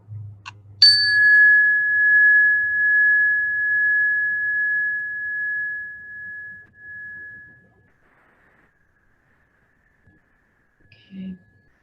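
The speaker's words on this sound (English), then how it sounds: "inviting your attention to rest on the sound of the bell" A single meditation bell struck once, ringing with a clear sustained tone that slowly decays over several seconds into quiet, preceded by a soft low murmur and followed by a faint rustle.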